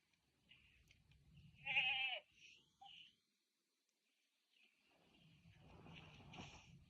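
A goat bleats in a mountain movie scene, one loud wavering bleat followed by a few softer calls, then a quiet stretch and low background sounds.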